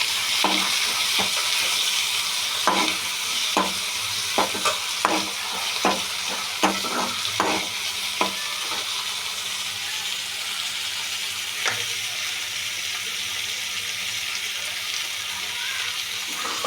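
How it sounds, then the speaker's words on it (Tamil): Tomatoes fry in oil with curry leaves in a pan for Tamil-style fish kulambu, a close, continuous sizzle cut by regular spatula strokes that stir and scrape, then grows steadier toward the end. "டொமேட்டோ போட்டு நல்லா ஃப்ரை பண்ணிக்கணும்"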